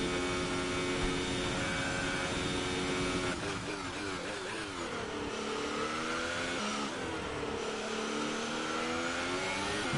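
F1 racing game engine at the French Grand Prix, a constant high-pitched scream that dips and climbs through downshifts and acceleration, loud and uninterrupted with no speech.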